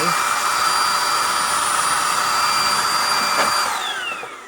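A Xiaomi blower-type appliance running on its second speed setting, giving a steady loud whirring rush with a high tonal whine that drops in pitch and fades as it winds down.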